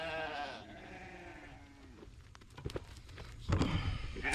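Ram lambs bleat during weaning on a farm, a chorus of loud, wavering calls close by, overlapping one another, with some shuffling and footsteps as the cries grow louder toward the end.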